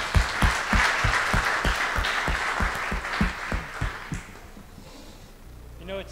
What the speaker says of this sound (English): let's give a round of applause to Ivan for thanks for the talk